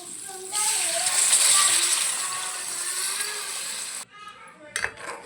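Tamarind pulp is poured into a crab curry, a close, gushing liquid pour running about three and a half seconds, fading gradually, followed by faint clinks of a pan.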